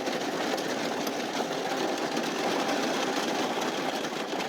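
Heavy rain pouring down at an abandoned mountain miner camp in Leadville, Colorado, a dense, steady hiss of drops drumming without pause, close and even throughout.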